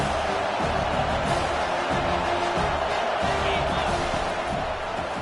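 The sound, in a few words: college football stadium crowd cheering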